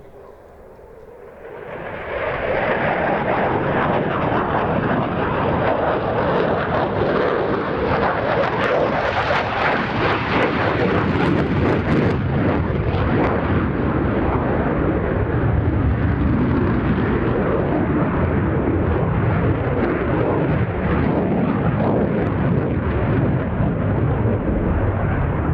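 A first-generation F-16 fighter jet flying an air display at an airshow. After a quieter start, a loud, continuous engine roar swells up and stays powerful and rumbling for over twenty seconds.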